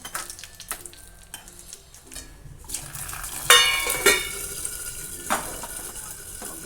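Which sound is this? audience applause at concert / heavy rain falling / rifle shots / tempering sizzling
tempering sizzling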